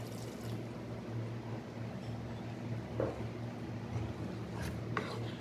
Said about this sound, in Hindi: 3-4 मिनट भूनने के बाद आपने इसमें आधा कप पानी डालना है।